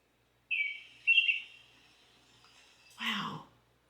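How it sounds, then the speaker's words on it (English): Spring mountain bird sound effect from CapCut added during editing: a couple of high chirping tweets early on, then a brief lower-pitched call near the end, clear and close against silence. "Spring Mountain bird sounds for birds."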